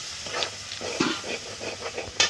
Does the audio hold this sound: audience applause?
no